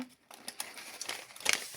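Close crinkling and rustling of paper as a paper surprise packet is unwrapped, a brief burst of crisp crackles growing busier toward the end.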